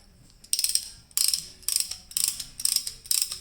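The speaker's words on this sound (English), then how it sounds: "you got that nice little tool right here that'll actually push the pistons in by ratcheting it" A brake caliper piston spreader tool is ratcheted on a Toyota Sienna during a front brake job, giving five quick bursts of sharp metallic clicking, close and loud.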